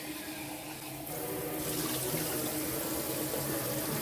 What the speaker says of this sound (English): I empty it out and I refill it as many times as it takes to make the water clear